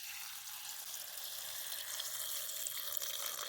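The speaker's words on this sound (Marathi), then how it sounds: "असं पाणी ओतायचं" Water pours over crushed dried kurdai (wheat-starch crisps) in a kitchen bowl, a soft continuous splashing rush that swells slightly toward the end, with no voices.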